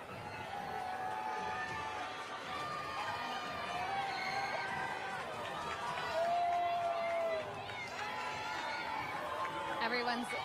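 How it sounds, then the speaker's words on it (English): A large crowd along the Endymion 2024 parade route claps, whoops and cheers as the parade begins to roll, a steady loud wash of chatter and shouts with voices talking throughout. "Everyone's clapping and cheering."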